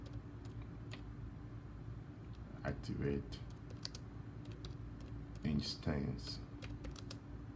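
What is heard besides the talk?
typing a command on a computer keyboard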